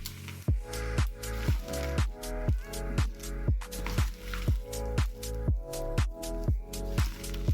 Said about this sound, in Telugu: ఉల్లిపాయల్లో వచ్చే వాటర్తోనే ఇలా బాగా గట్టిగా పిసకాలి.